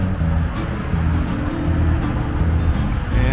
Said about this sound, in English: Enjoy the traffic noise.